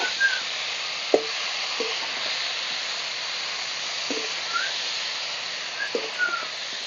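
Chicken and mushrooms frying in a pan give a steady, moderate sizzle and hiss with a few soft knocks of a spoon, and no talking over them.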